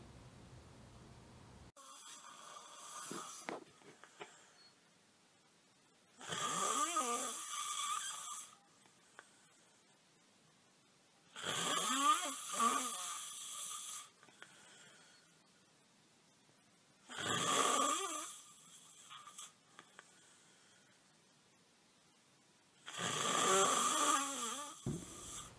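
A university student breathing loudly while asleep at night, heard as slow, heavy snoring that repeats in long rasping bursts every few seconds against a quiet background hiss.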